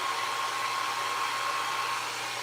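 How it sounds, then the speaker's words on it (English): A hair dryer runs steadily at close range, blowing on a craft project in a steady, even whir with a faint tonal hum and no pauses. "I hit it all the time with the dryer"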